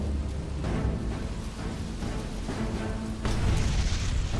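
Torpedo hit on an oil tanker at night: a continuous low, heavy rumble of the blast and burning, with a louder surge near the end, no voices.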